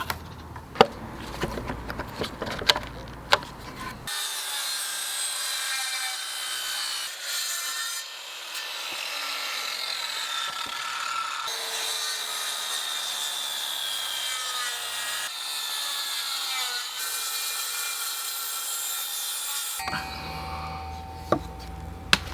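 A handsaw with a worn blade cuts through an oak frame brace. Its long, steady rasping strokes sound close and alone, with a few knocks and clicks before and after the cut.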